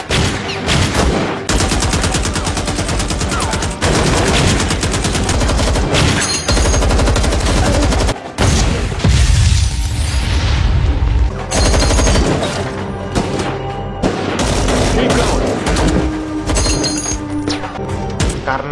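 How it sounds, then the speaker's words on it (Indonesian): Sustained film shootout gunfire rattles in dense, loud bursts of rapid shots, with crashing and shattering impacts, brief gaps and a heavy thud, mixed over a dramatic soundtrack. "Baku tembak pun terjadi."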